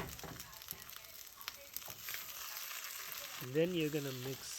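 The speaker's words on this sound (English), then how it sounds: "Once the eggs start to cook, you're going to scramble them, cook them some more" Eggs sizzle and crackle steadily in a hot pan as they are scrambled for fried rice, a continuous frying hiss with a brief voice talking over it near the end.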